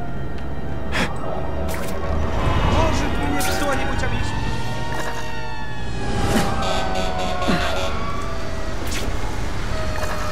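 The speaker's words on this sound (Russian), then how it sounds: "где-то машина едет пожарная" A fire engine siren in The Amazing Spider-Man 2 video game wails steadily through the whole stretch, loud and continuous with rising and falling tones, amid busy game-style background noise and voices.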